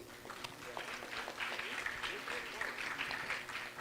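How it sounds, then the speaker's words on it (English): Audience applause greets a panel of eight at a Politicon Philippines debate, a moderate, steady patter of clapping from a seated crowd, fairly soft and unbroken. "Ladies and gentlemen, a round of applause for these 8 brave souls."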